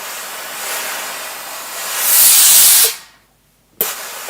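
Steam from a sewing iron hisses in a long breathy burst that swells loud, cuts off to near silence, then returns briefly with a sharp puff.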